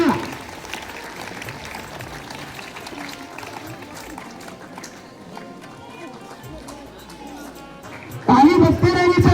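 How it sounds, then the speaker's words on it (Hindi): A crowd claps steadily for students at a school mathematics day event, a dense distant patter under a voice on a loudspeaker, swelling louder near the end. "ताली बजती रहनी चाहिए, ताली में कोई कंजूसी नहीं।"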